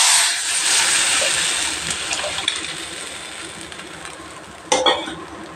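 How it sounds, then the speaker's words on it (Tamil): Tamarind water poured into a hot pan of rasam with ground curry leaves and chillies, a soft gushing sizzle that gradually fades, followed by a brief clatter of utensils near the end. "இப்போ நம்ம நல்லா தண்ணி கரைச்சிக்கிட்டு ஊற்றிடலாம்."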